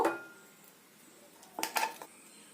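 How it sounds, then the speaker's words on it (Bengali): A metal spoon scrapes and clinks against a bowl while jackfruit seed paste is moved into it, with one clink at the start and a quick cluster of close, light taps near the end over a quiet background. "এই পেস্টটাকে একটা বাটির মধ্যে নিয়ে নেব"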